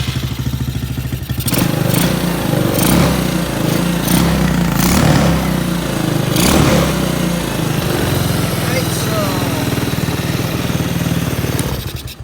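A Taotao Chinese quad's small engine runs close and loud, a rough, steady putter with clattering and occasional thumps, no talking heard.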